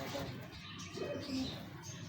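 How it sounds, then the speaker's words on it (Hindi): A pigeon gives a soft, low coo, close but faint, repeated briefly over quiet background. "ये कबूतर है"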